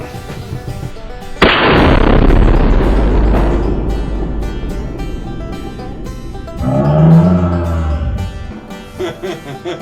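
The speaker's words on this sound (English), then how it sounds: "He is set up here with his Winchester muzzleloader, and he's going out to 100." A Winchester muzzleloader rifle fires a single shot at a 100-yard target, giving one sudden loud blast followed by a long, rolling boom that fades over several seconds, then a broad rumbling swell, outdoors at a range.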